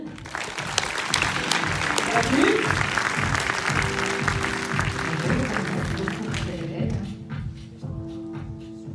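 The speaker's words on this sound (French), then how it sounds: "on peut l'applaudir" Audience applause at a talk on cerebral palsy, dense clapping filling the first several seconds before thinning out, with a speaker's voice heard over it.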